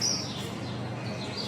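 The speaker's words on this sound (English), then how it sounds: "The birds are sure singing." Birds chirp and sing outdoors at a garden center on a spring day, a steady, fairly faint chorus of high tweets over light background noise, with no talking.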